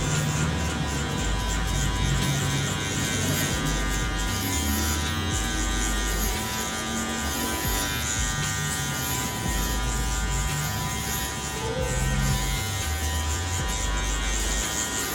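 An electric hair clipper with a number 1 guard buzzing steadily while cutting hair for a mid fade, a close, continuous hum with slight changes in load as it moves through the hair.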